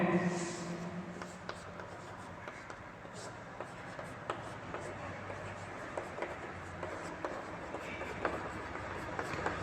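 Marker or chalk writing numbers on a classroom board during a Class 4 maths lesson, a steady scratchy scrawl with short tapping strokes over a roomy background hum.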